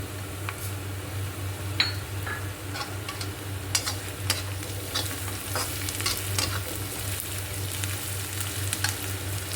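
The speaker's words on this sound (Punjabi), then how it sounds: "ਪਿਆਜ਼ ਨੂੰ ਆਪਾਂ ਚੰਗੀ ਤਰ੍ਹਾਂ ਨਾਲ ਸੇਕ ਲੱਗਣ ਦਵਾਂਗੇ" Onions frying in a pan at home, with a steady close sizzle and frequent stirring scrapes and clinks over a low kitchen hum, no talking.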